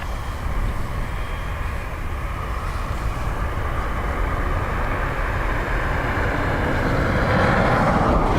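NetJets business jet taking off from runway 10 right at Dublin Airport, a steady broadband engine roar holding loud and constant throughout, swelling slightly near the end.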